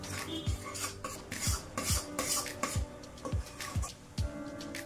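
Rice flour being stirred into boiling water for modak dough, a spoon scraping and knocking against the pot in a steady rhythm of soft rubs and clinks.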